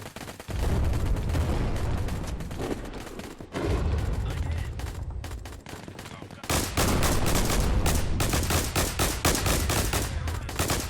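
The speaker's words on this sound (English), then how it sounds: "let's go double pistols" Rapid, loud gunfire from double pistols in the Plastic Battlegrounds VR game crackles in dense bursts throughout, nearly continuous with brief pauses, the last stretch the most intense.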